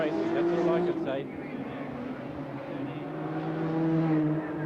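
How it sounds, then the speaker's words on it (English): A turbocharged Volvo race car at the Wellington 500 street race holds a steady, loud engine drone that rises and falls through the gears, with a commentator talking over it. "Robbie Francevic still pushing this turbo Volvo, really pushing it"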